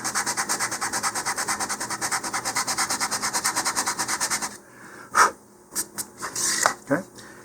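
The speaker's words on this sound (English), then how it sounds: "sand just below that." Sandpaper rubbed against a model rocket body tube just below the 3-inch mark during assembly, giving a steady, close rhythmic scratching of quick even strokes for several seconds, followed by a few scattered light knocks and handling sounds.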